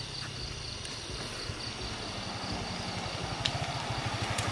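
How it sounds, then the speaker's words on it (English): A motorbike engine in rural Bali near a volcano, a low, steady pulsing rumble that grows slightly louder toward the end, with no talk. "I heard motorbike sound."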